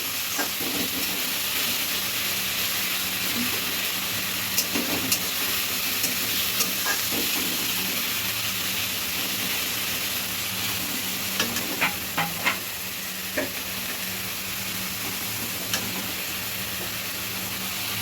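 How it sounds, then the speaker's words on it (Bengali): Onion paste masala frying in a pan for Maher Kalia, a continuous loud sizzle and hiss with scattered scraping taps as it is stirred, close up and steady throughout, no voices. "পেঁয়াজ বাটাটা দিলে একটু ঘন হবে। একটু মিশিয়ে নেব।"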